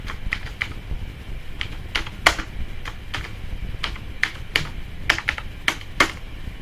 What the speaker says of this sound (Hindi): और अब हम लिखेंगे इसमें जमाल अकरम